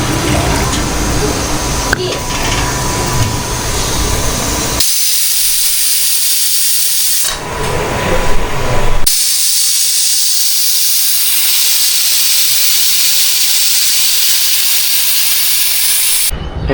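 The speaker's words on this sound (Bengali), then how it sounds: "এখন হচ্ছে বেগুন ভাজা হচ্ছে এই যে" Eggplant slices coated in rice flour frying in hot oil, a loud steady hiss and sizzle that drops out briefly twice before returning strongly, with a voice talking over parts of it.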